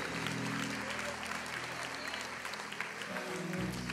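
A church congregation applauds in a steady, dense wash of clapping, with sustained low musical tones underneath that shift near the end.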